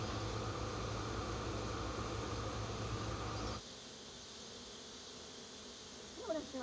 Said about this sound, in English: You see the number of bees that are going into their new home